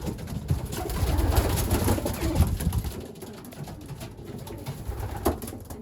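Racing pigeons coo in a loft, a low murmuring chorus of several birds close by, busier at first and then thinning out, with small rustles and faint clicks.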